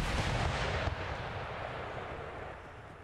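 Artillery fires in the video game Empire Total War, a heavy booming blast at the start followed by a long rumbling decay that fades over a few seconds.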